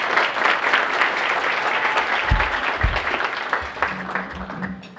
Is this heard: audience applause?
yes